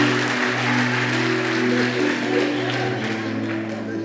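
A church congregation claps steadily through a sermon service, a dense, continuous patter of many hands filling the room with a low hum beneath, no voices standing out.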